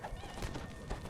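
A horse mount in the video game DDO neighs in a brief whinny that is mixed with game sounds and speech at moderate volume.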